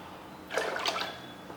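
Five cups of water pour into a cooking pot for Andhra-style katte pongal in a brief, splashing gush lasting about half a second, close and fairly quiet against a still kitchen.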